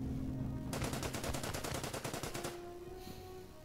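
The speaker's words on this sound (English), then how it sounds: "Enemy machine gun is returning fire at my tank" Rapid burst of enemy machine gun fire in the wargame Order of Battle: Pacific, aimed at a tank, a steady rattling string of shots lasting about two seconds, loud and close, then fading into quieter game ambience.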